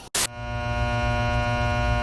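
An air conditioner gives a steady electrical hum with a low droning rumble, running continuously after a brief burst of noise at the start.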